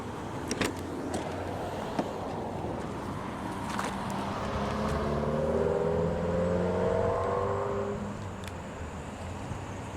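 A 2008 Mercedes-Benz CLK 350 Cabriolet engine hums through its single exhaust and rises in pitch as the car accelerates past, growing louder mid-way then easing off, with a few clicks at the start.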